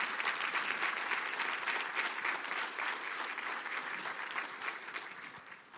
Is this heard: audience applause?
yes